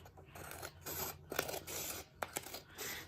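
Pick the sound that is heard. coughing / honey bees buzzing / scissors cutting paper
scissors cutting paper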